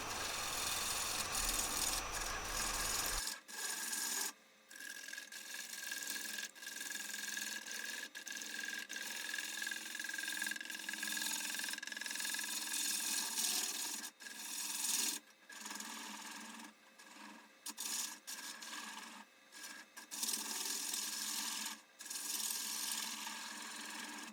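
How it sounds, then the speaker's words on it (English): A bottoming bowl gouge with a steep bevel cuts into a large wood burl spinning on a lathe, giving a continuous rasping scrape broken by short pauses as the tool lifts, close and fairly loud with no talking. "I'm going to use a bottoming bowl gouge with a much steeper bevel"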